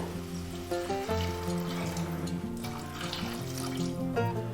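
Water is poured into basmati rice in a cooking pot for brinji rice, giving a continuous close-up trickling and gurgling pour with a shifting hollow resonance.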